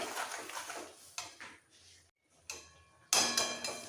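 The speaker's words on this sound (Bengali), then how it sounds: "ঝালটা একটু মিক্স করে দিলাম" Green chilli paste being mixed into a cauliflower-stem chorchori in a pan: several separate clinks and scrapes of a utensil against metal, irregular and close, with short pauses between them and no talking.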